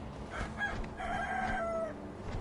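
Roosters crow in the Sekiro: Shadows Die Twice video game, two drawn-out calls rising over a steady low ambient hum, moderately loud and close, with no talking.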